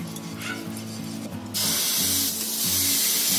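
Oil meets a hot pan on low gas for besan spinach chilla, bursting into a steady, fairly loud sizzling hiss about halfway through, after a quieter stretch with a low tonal hum underneath.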